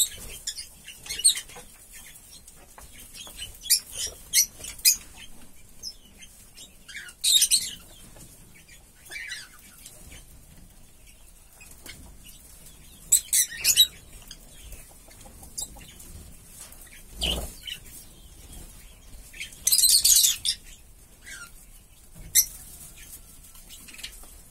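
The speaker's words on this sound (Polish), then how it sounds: "Mamy nierozłączki właśnie." Caged lovebirds and a budgerigar give sharp, scattered high chirps and squawks, with occasional wing flutters and rustling, moderately close with quiet gaps between calls.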